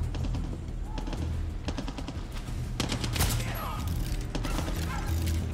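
Gunfire in the Far Cry 6 video game: dense bursts of automatic weapon fire and single shots crackle over a steady rumbling background, loud and close, with several sharp volleys throughout.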